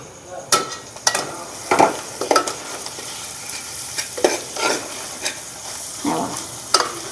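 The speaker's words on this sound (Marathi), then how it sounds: "टाकते आणि चांगल्यापैकी आता एकजीव करून घेऊया" Chicken is stirred with homemade masala in a frying pan, a soft background sizzle broken by repeated scraping strokes of a spoon against the pan, irregular and close.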